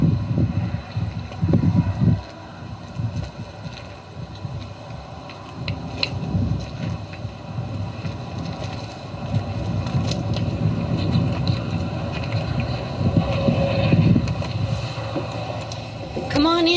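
Wind buffets a microphone outdoors at a former Japanese American incarceration camp, a constant low rumbling roar with gusty surges throughout and faint voices underneath.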